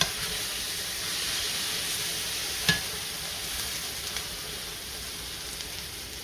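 Beef for stroganoff sizzles steadily in a pan, a constant close hiss with one sharp clink partway through and no voices.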